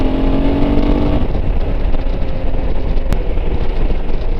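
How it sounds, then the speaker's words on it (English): A Suzuki V-Strom motorcycle slides through gravel with its engine droning loudly and close, a brief pitch drop as it eases off, and a rough crunching wash of dirt underneath. "Look at that, the bike just slides."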